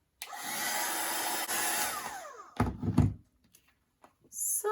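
A heat tool blows steadily to set clear embossing glaze on a handmade Christmas tag, a loud, close whooshing hum lasting a couple of seconds before cutting off with a few thumps and handling knocks.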